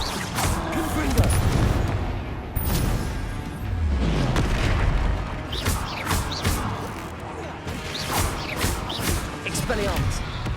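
Booming blasts from the Confringo curse in the wizarding game Hogwarts Legacy, several heavy explosive impacts mixed with cracks and pops amid a busy duel, with voices shouting spells over the fight throughout.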